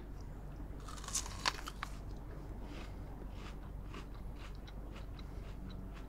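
Someone bites into a homegrown, apple-like tropical fruit with a crisp crunch, then chews quietly and steadily against a constant low background hum.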